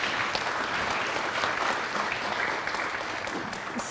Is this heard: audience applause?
yes